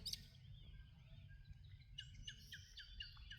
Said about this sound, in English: Listen to the birds. The birds are telling you to come hither.